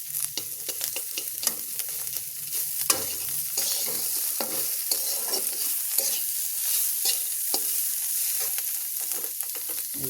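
Mixed vegetables for chow mein sizzle in a hot pan while a spatula scrapes and stirs in quick, irregular strokes. The frying hiss runs steadily underneath, close and fairly quiet, with no talking.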